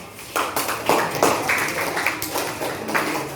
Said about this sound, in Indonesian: kasih tepuk tangan terakhir